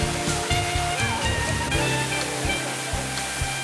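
A tall, two-tiered waterfall crashes in a loud, continuous roar of falling water, dense and close, with a faint voice briefly under the rush.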